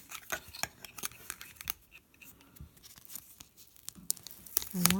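Sticky tape ripped off a roll in several sharp, crackling bursts while assembling a DIY wire tree, close and fairly loud, with brief quiet gaps between pulls.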